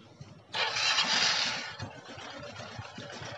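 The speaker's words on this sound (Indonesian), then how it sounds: "ini saya coba menyalakan dulu motornya" A motorcycle engine is started during a carburetor adjustment. It catches abruptly with a loud, close roar, then settles into a rough, steady idle.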